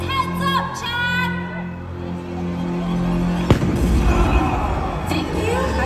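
A staged grenade explosion effect goes off during a live Jurassic World dinosaur arena show: one sharp, loud bang in mid-clip, then a rumbling, noisy wash of crowd and venue sound, with musical tones beforehand.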